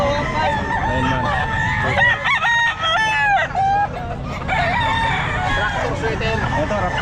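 Raptor Sweater gamefowl at a grotto pet market crowing loudly and close, several drawn-out crows over steady crowd and street noise, with people talking nearby.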